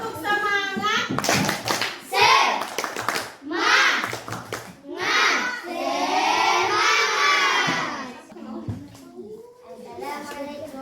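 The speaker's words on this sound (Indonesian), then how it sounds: "Kita beri tepuk semangat dulu untuk kelompok penyajinya" Group clapping and cheers from a classroom crowd, including children's voices, for a presenting student team; bursts of rhythmic claps and shouts rise and fall throughout, with voices in between.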